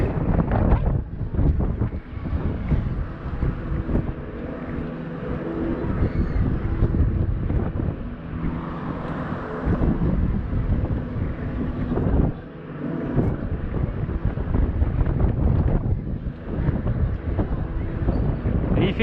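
Wind rushes over the microphone while riding a moving pedal-powered vehicle outdoors, a constant loud buffeting roar with only a short dip near the middle.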